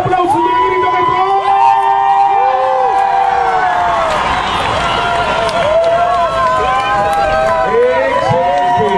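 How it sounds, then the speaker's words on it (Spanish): Spectators at the finish of the 7th ANSeR charity race cheer the winners, a crowd roaring with whoops, shouted voices and scattered clapping that stays loud and lively throughout. "El aplauso y el grito de todo."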